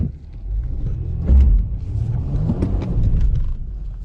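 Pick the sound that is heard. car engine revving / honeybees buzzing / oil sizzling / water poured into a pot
car engine revving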